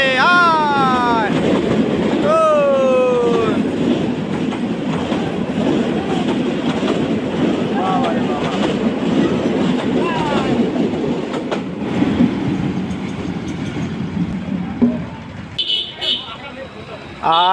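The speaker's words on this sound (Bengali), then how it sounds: "মাত্র একটা ট্রেন চলে।" A train runs along the Kurigram–Rajarhat railway line beside a roadside site where a vehicle is loaded with jam timber, a steady rumble with rail clatter throughout, while people talk over it and a horn-like tone rises early on.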